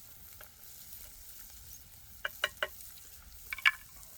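Onions sauté in butter on a hobo stove in the Idaho forest, a faint low sizzle with a few quick clicks and taps from stirring near the end; no speech.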